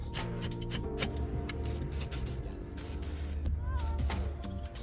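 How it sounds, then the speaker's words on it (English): WD-40 spray lubricant sprayed onto a rear shock mount bolt of a BMW E46 320i, a close, steady hiss of aerosol spray with small clicks and rattles, no talk. "We're going to try and tidy it up, WD-40 it, just give us a bit more of a fighting chance."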